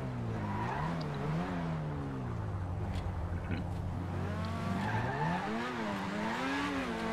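A Porsche in GTA Online drives with a wavering engine whine that rises and falls, while tires squeal and skid through turns. Fairly quiet, with no speech over it.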